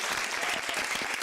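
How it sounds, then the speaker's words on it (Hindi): A studio audience at an entertainment talk show claps steadily and densely for about a second, a continuous near applause with no talk over it. "एक मिनट पहले ताली मैं बजाऊंगा, उसके बाद आप बजाइए।"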